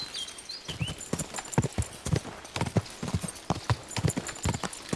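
Hooves clip-clop in a steady walking rhythm as a horse moves along in the video game Kingdom Come Deliverance 2, close and clear, with a brief whinny-like tone early on.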